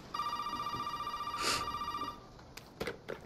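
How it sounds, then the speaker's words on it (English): A telephone ringing in Resident Evil 7, a steady electronic warbling ring lasting about two seconds, then a few soft clicks and knocks, with no voices. "I'm gonna come answer the phone."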